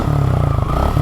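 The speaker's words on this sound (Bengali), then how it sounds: "আমার বাইকের সাউন্ডটা শুনেন" A motorcycle engine idles close by, a steady low throbbing chug with rapid even pulses.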